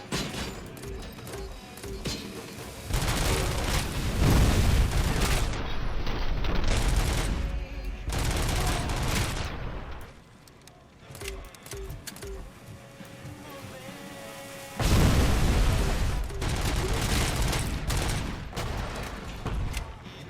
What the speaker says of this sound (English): I think he just blew himself up.